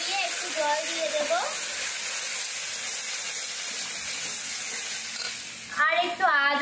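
Spices and fish sizzling and being stirred in a pan for a Bengali tangra fish curry, with a steady frying hiss throughout and speech heard over it at the start and end.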